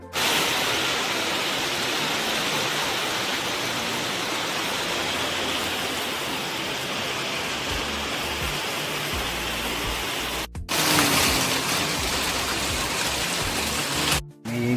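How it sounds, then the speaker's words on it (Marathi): Heavy cold monsoon rain pours steadily in the Konkan countryside, a dense continuous hiss that stays loud and close throughout, with a brief dropout near the end. "आज एकदम थंडगार पाऊस चालू झालेला आहे"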